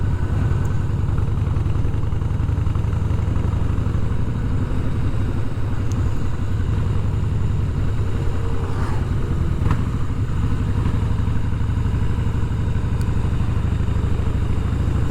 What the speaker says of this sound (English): it is a lovely bike to ride on a day like today, a Harley Fat Boy